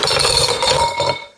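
Reusable ice cubes clatter into a cup in a dense, loud burst of bright clinking and rattling that lasts about a second before stopping abruptly.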